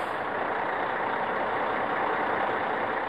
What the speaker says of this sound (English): The engine's going!